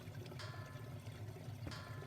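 Water pouring into a tank in the game Nightmere, a soft continuous gurgling flow with a couple of brief splashy surges, faint and alone.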